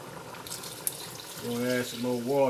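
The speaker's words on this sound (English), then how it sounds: "the water went down a little bit, so we're gonna add some more water" Water is poured into a pot of simmering oxtail, a soft splashing trickle that is quickly followed by someone talking over the cooking.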